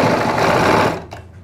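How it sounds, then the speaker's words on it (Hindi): Sewing machine stitching a high neck halter collar, a fast loud close mechanical whirr that runs for about a second and then stops. "और अब इसे सिलाई लगाएंगे हम जितना हम मार्जिन लेते हैं,"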